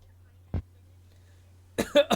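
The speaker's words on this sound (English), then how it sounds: "No coughing in the microphone." A single short cough from a character in the video game Opus: Echo of Starsong, sent over comms with a steady low hum underneath, followed by a burst of voice chatter.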